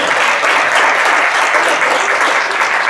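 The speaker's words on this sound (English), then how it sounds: "let's give them a round of applause for everything" An audience at a healthcare debate claps in a dense, steady round of applause, loud and unbroken throughout.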